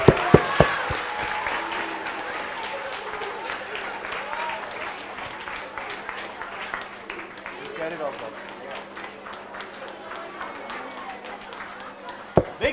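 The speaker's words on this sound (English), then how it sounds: "A big round of applause, everyone." An audience at an inter-school quiz event claps in sustained applause that fades gradually, with speech underneath and a few sharp knocks near the start and end.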